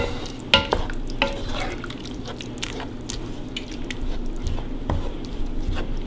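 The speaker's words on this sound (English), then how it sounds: "I'm going to give it a good stir." A spoon stirs Texas-style chili with broth in a pot, giving a continuous close, thick squishing and sloshing with a few sharper scrapes against the pot.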